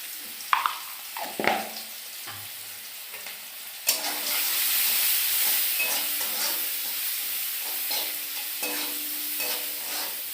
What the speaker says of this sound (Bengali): এই যে দিয়ে দিলাম আলু আর টমেটো।